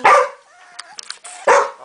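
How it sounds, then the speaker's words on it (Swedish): A three-week-old puppy gives two sharp, close yipping barks, one at the start and one near the end, with quiet rustling between. "Vad han skäller."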